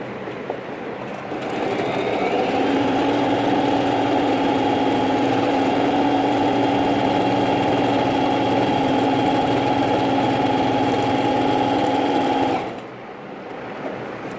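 A Singer Talent 3321 sewing machine stitches a designer blouse pattern, starting after a quiet moment and running as a steady, loud, close mechanical whir for about eleven seconds before stopping abruptly.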